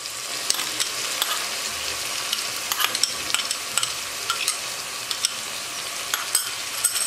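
Finely chopped large onion sautéing in a pan, a steady broadband sizzle with frequent scraping stir strokes throughout, close and fairly loud, no talk.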